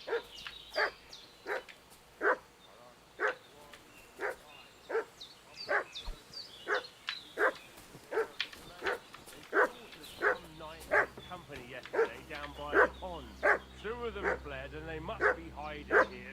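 A dog barks in Kingdom Come Deliverance II in a rhythmic, steady series of moderately loud, slightly distant woofs with occasional yips and whimpers. A voice speaks partway through.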